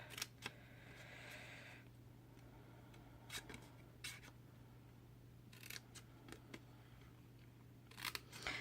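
Paper snips cut into scored paper for a craft lip balm holder, producing several crisp, quiet snips in irregular clusters over a faint steady electrical hum.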